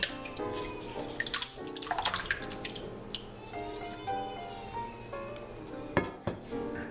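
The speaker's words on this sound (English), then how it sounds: "and pour the chunked yogurt in." Thick chunked yogurt pours and drips into a flour sack cloth strainer with wet, squishy splatters, a steady gurgling stream broken by a few soft plops near the end.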